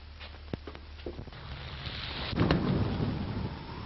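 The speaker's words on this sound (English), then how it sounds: "There's a storm coming up," Thunder from an approaching storm rumbles up and swells in a broad, heavy roll after a few scattered knocks and taps, with a hissing rain-like wash underneath; no voices.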